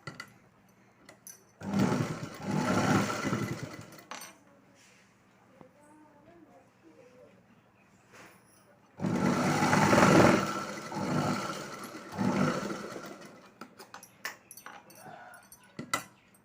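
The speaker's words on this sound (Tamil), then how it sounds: "அதனால இங்கே 1 இன்ச் அளவுக்கு நம்ம தையல் ஓட்டிக்கலாம்." A sewing machine stitches a nightie neckline in two loud bursts of fast mechanical whirring, separated by a quieter pause with faint handling sounds and light speech.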